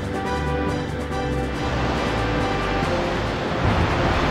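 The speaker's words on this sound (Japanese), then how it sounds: "ここで波乗りだ。" Surf move sound effect from the Pokémon Stadium Gold and Silver video game, a continuous loud rushing wave-like wash of noise lasting several seconds with no talk.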